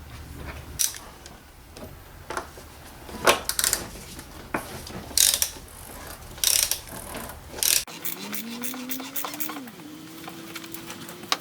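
A ratchet fitted with a 27mm socket loosens the oil filter housing on a 2009 Mercedes W204 C-Class, giving repeated bursts of close, sharp clicking, followed by a steady whirring tone near the end.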